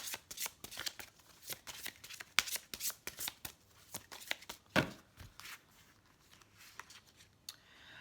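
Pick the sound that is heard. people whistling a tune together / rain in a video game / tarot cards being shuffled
tarot cards being shuffled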